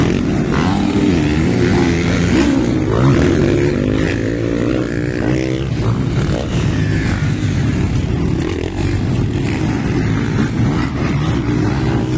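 Several motorcycle race engines at a dirt track heat in Libona, Bukidnon, buzzing loudly and continuously with overlapping rising and falling revs, close and dense throughout with no clear speech.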